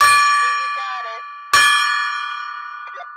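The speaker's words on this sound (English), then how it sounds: "I'm going to ring the gong" A golden gong in a basement is struck twice, each hit ringing out bright and metallic with a long, slowly fading resonance, the second strike landing about halfway through.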